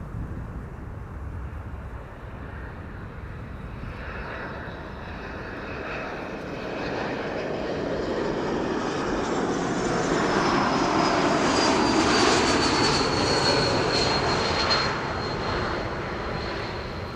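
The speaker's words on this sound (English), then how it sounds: "Time for another Bombardier C-Series 300. This is Air France, flight 1444," An Air France Bombardier C-Series 300 jet arrives at Amsterdam Schiphol, its engine roar building steadily from a distant rumble to a loud, broad whine as it passes close overhead, with a faint high tone sweeping downward.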